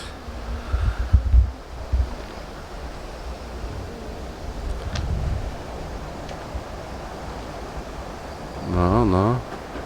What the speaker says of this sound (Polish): I te fale spore.